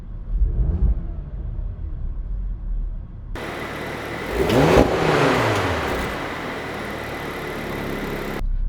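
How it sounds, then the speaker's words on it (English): A warmed-up 2019 Porsche Macan S in normal mode revs its engine: a low idle rumble, then a sharp rising and falling rev that swells loudly and settles back into a steady, louder idle, heard up close without talk. "Let's go ahead and give it a couple revs."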